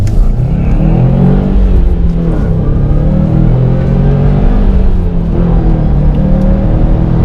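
A turbocharged four-cylinder 2018 Subaru WRX STI revs and growls steadily, a loud, deep exhaust rumble that rises and falls in pitch, close by with no talking.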